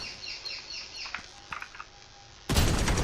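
A headshot gunshot in a video game lands as a sudden loud, sustained blast of gunfire near the end, after a few faint clicks and small in-game sounds.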